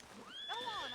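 In the video game Red Dead Redemption 2, a horse gives a brief, rising and falling whinny, close and clear, lasting under a second.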